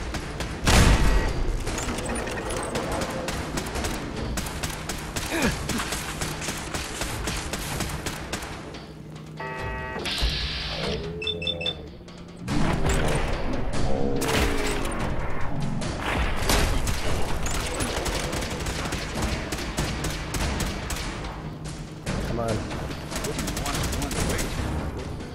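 Gunfire in Fallout 4 during a musket-armed fight up stairs, arriving in dense, continuous volleys of loud shots and thuds across the whole stretch, with a brief quieter gap midway and commentary talk over parts of it.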